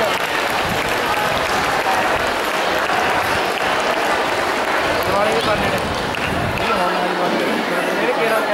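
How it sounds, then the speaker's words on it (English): Dense, steady applause from an audience greeting folk dance performers at a cultural event, broad clapping filling the whole stretch with crowd murmur underneath. "big round of applause"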